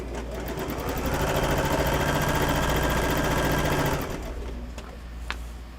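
Sewing machine stitching quilt pieces, the machine dropped down into its table, runs in a steady, close, continuous whir for about three seconds, then stops, leaving faint room noise and a brief tap.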